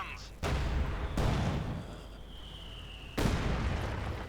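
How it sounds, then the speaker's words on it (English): Heavy mortar shells in Company of Heroes 2 slam into a Panzer IV tank, three loud, booming blasts spaced a second or two apart, each rumbling on after impact, with a voice talking under them. "Heavy mortar run connects on the Panzer IV"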